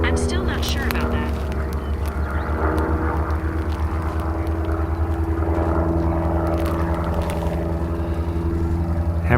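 An aerobatic propeller airplane drones steadily through a push to vertical and hammerhead turn, a loud continuous engine tone with shifting pitch, sounding near and unbroken throughout.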